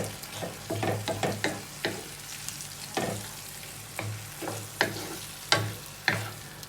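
Egg, chestnut mushroom and vegetable omelette mixture being stirred in a frying pan, quiet sizzling broken by repeated scraping and tapping strokes at an uneven pace.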